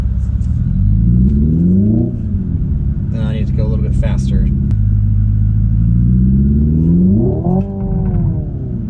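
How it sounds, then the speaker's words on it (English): Hyundai IONIQ 5 N electric performance car in N custom mode playing synthetic exhaust sound, a loud droning engine note rising and falling in pitch with brief crackling bursts, under a voice talking inside the cabin. "Those crackles and pops."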